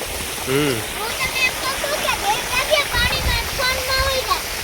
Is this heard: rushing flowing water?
yes